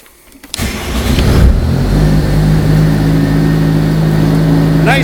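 A 2005 Bobcat S185 61 hp skid steer loader engine starts up and settles into a steady, loud diesel idle with a low rumbling hum, close by and alone.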